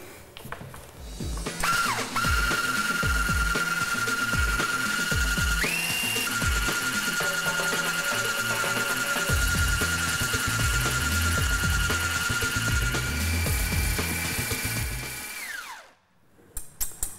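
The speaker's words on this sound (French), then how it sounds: "pour monter mes blancs en neige, il me faut un batteur électrique" An electric hand mixer whips egg whites into stiff peaks, a loud steady whirring motor with a rising pitch shift partway through and rhythmic beater clatter against the bowl, running near constantly before cutting off at the end.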